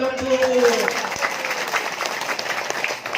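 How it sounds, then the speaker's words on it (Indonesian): Audience members at a Hindu cultural dharma talk break into brief, mixed clapping, with a voice sounding just before the applause rises. "Tepuk tangan dong Bu"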